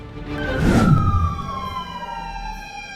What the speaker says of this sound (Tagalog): Sunod-sunod ang dating ng mga truck ng bumbero para apulahin ang sunog